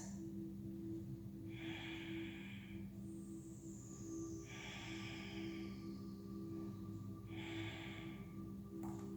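Slow, deep breaths during a yoga gate pose, three soft airy inhale-exhale swells spaced evenly apart, faint and close over a steady background hum.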